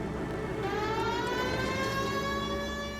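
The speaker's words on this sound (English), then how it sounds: "You got something against sirens, Phelps?" Police siren in the video game L.A. Noire, a rising and falling wail that stays steady and fairly loud over a low engine rumble.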